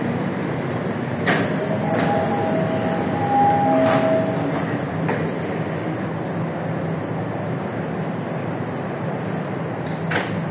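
A first-generation MTR M-Train, unit A107, moves through platform 2 at Tsuen Wan station with a steady rumble and faint squeals, as sharp clunks and door thuds ring out on the platform.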